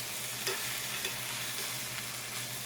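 Veal chops sear steadily in a hot pan, a dense, even sizzle holding throughout with a few faint pops and crackles, close and continuous with no voices.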